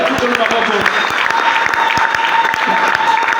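A church congregation bursts into sustained applause and cheering during a sermon, dense close clapping filling the room throughout with scattered voices mixed in.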